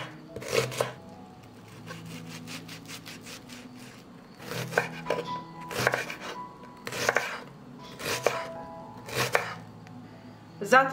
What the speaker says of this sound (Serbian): Iseći ću kilogram luka.